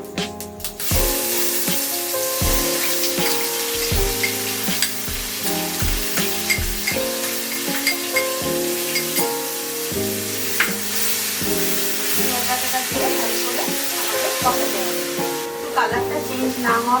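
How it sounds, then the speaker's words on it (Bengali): Onion paste frying in mustard oil after bay leaves and dried red chillies, a continuous sizzle under background music with repeated stirring scrapes, a voice speaking briefly. "কালারটা চেঞ্জ না হওয়া পর্যন্ত আমরা এটা ভেজে নেব।"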